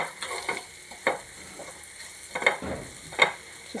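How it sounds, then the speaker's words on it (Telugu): Potato curry with cumin powder being stirred in a pan, a soft ongoing sizzle with repeated scrapes and taps of the spoon, fairly close and with no talking. "ఇవి బాగా కలుపుకోవాలండి."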